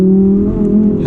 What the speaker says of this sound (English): the exhaust dominates this car, the engine dominates this car, and it sounds